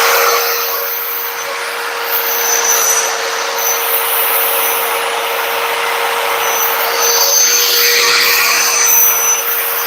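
A DeWalt Helco magnetic base drill runs with a loud, steady high-pitched whine and hiss, holding an even tone throughout with no talking.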